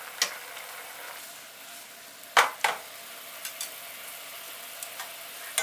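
Carrots glaze and reduce over high heat in a pan, giving a soft steady sizzle with a few sharp stirring scrapes and clinks.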